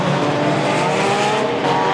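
Race cars run flat out at a stock car track during an evening race, a dense steady engine roar with high tonal whine filling the whole stretch, loud and continuous with no voices on top.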